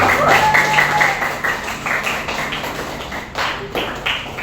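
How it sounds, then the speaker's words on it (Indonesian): Students in a group guidance session applaud together, a dense wash of claps with a few louder taps near and far, while a voice briefly speaks over it. "Tepuk tangan dong buat kalian semua"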